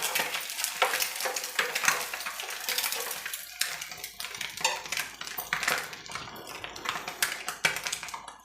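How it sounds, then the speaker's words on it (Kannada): Spices and curry leaves crackle and sizzle in hot oil until crispy, with scattered taps and scrapes from stirring sounding up close. "ಸ್ವಲ್ಪ ಒಗ್ಗರಣೆಯಲ್ಲಿ ಕ್ರಿಸ್ಪಿ ಆಗೋ ತನಕ ಸ್ವಲ್ಪ ಹೊತ್ತು ಒಂದೆರಡು ನಿಮಿಷ ಹಾಗೆ ಫ್ರೈ ಮಾಡ್ಕೋಬೇಕು"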